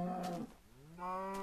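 A cow in the Minecraft video game moos twice in quick succession, each a clear, drawn-out lowing call with a short gap between, close and alone.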